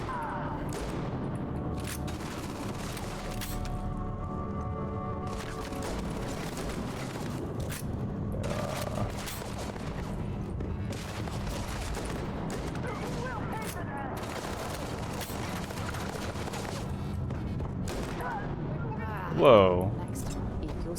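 Bursts of shotgun fire in the game Starfield crack out repeatedly against a crowd of enemies, sharp separate blasts spread across the stretch, mostly under someone talking, with one louder burst near the end.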